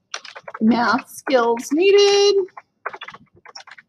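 Quick keyboard clicks from typing on a computer keyboard, scattered before and after a stretch of a person speaking close to the microphone.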